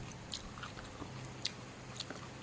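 Crisp crunching bites into fresh vegetables dipped in chili sauce, a few sharp close-up crunches over steady soft chewing with background hum.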